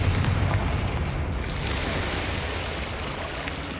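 A Confringo blasting spell in Hogwarts Legacy: a sustained, loud, roaring explosive rumble that fills the whole moment and fades only slightly.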